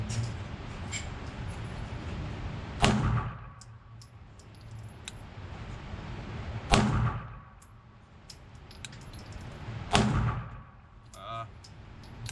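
An IWI Jericho 941 F pistol fired at a 7-yard target: three loud, sharp shots spaced about four seconds apart, each with a short ringing decay over a low background hum.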